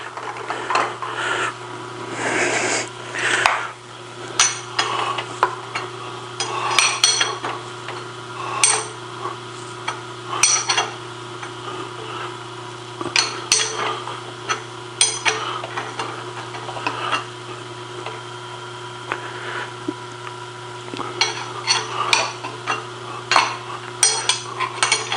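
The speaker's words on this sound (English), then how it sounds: "reach up here and tighten up our drawbar" A drawbar is tightened on a milling head adapter, giving a run of irregular metallic clicks, taps and scrapes close by over a low steady machine hum, with short pauses between bursts.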